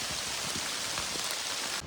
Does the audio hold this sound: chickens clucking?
no